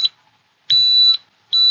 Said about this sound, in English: It's a metal detector.